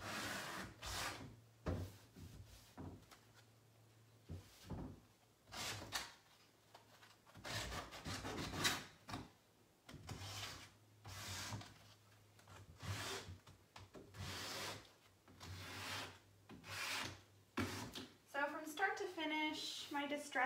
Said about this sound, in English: I'm just kind of using the edge of my sanding sponge.